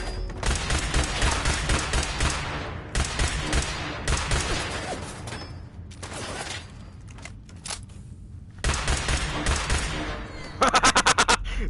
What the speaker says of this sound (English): this pistol's got a great hip fire